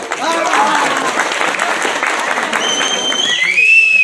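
An audience at a Hanuman temple opera yatra event in Koraput claps loudly and steadily, the dense applause running throughout, with a few whistles rising near the end.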